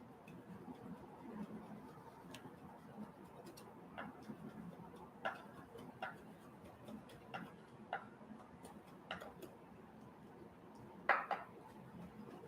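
Knife mincing chicken heart, liver and gizzard on a board: sparse, irregular sharp taps of moderate loudness, spaced about a second apart, over a quiet room background.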